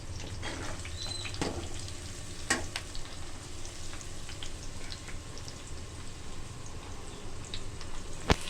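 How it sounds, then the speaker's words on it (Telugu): Cabbage frying in a pan for homemade egg noodles, a steady close sizzle with occasional scraping stirs and small sharp clicks, no voices. "క్యాబేజీ కొంచెం ఫ్రై అయిన తర్వాత ఒక 2 నిమిషాలు."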